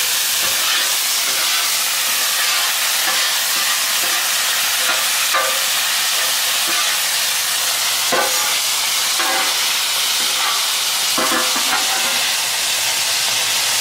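Peppers caramelizing on a Blackstone griddle give a loud, steady sizzle and hiss as red wine vinegar goes on top, with scattered stirring scrapes over the continuous frying noise and no talking.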